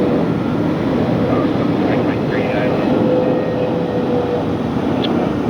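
A jet airliner touches down on a runway at LAX, heard as a loud, steady broadband roar of engines and rushing air that holds constant throughout, with a faint whine running beneath it.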